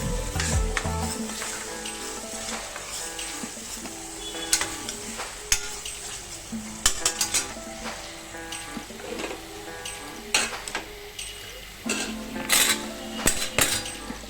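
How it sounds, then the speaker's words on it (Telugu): Fresh coconut, ginger and garlic paste frying in hot oil, with steady sizzling, frequent stirring scrapes and clinks of a utensil against the pan, close and fairly loud throughout. "ఇప్పుడు మనం ఇందులోకి పచ్చి కొబ్బరి అల్లం వెల్లుల్లి పేస్ట్ ఫ్రెష్గా గ్రైండ్ చేసుకున్న దాన్ని వేసుకుందాం ఆయిల్లో వేగించుకుందాం"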